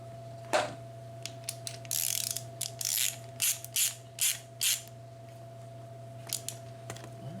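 Worm gear hose clamps tightened on a 1994 Saab 9000, a series of close, sharp ratcheting clicks in short bursts over a steady low hum, with no voices.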